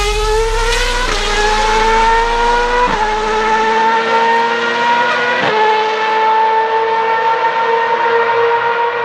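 A Red Bull Racing RB8 Formula 1 car screams at full throttle, a loud, close, continuous high-pitched engine wail that climbs steadily with a few brief dips at upshifts.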